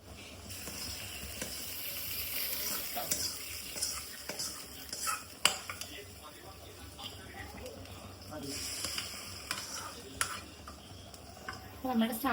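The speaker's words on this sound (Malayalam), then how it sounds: "ഇനി അതിനകത്തേക്ക് കടുക് വറുത്തിടാനുള്ളൊരു പാട്ട് മാത്രമേ ബാക്കിയുള്ളൂ" Mustard seeds frying in hot oil for tempering a Kerala sambar, a steady crackling sizzle with stirring and the clink of pots and utensils, close by, while someone talks.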